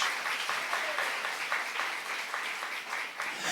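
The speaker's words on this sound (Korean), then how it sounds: "박수하세요" A church congregation claps during a sermon, a dense, even burst of applause sustained for a few seconds at moderate volume, with no talk over it.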